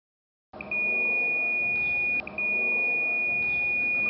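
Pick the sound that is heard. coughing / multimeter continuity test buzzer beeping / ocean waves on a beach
multimeter continuity test buzzer beeping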